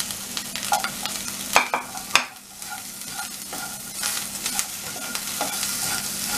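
Onions hiss and sizzle in hot oil in a pan, for chilli paneer, with a spoon scraping and stirring in scattered clacks over a steady frying crackle, close up and moderately quiet.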